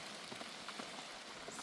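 Steady rain falls on a surface outdoors during a wet, muddy day of nomadic life, a dense, even patter close by with no voices.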